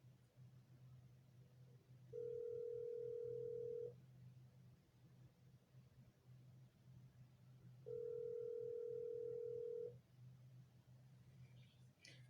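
A telephone ringback tone heard while placing a call, two long steady beeps about six seconds apart, faint and thin over a low background hum.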